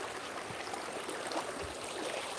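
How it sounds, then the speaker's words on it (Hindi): Stream water splashes and trickles as feet are washed in it, a soft continuous rushing with a few brief splashy dips, close and fairly quiet. "ये पानी से पैर वैर धो लेते हैं,"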